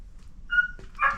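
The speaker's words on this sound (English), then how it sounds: "Excuse the dogs. Anna's trying to knock on the door to shut them up." Dogs barking and yipping behind a closed door, two or three short, sharp, high-pitched barks in quick succession, fairly close and alone without talking.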